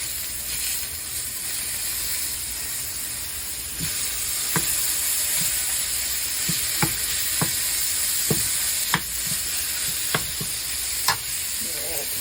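Steady close sizzle of about a pound of ground beef frying in a skillet with salt and pepper, broken by a scattering of sharp clicks and scrapes from stirring, no voices.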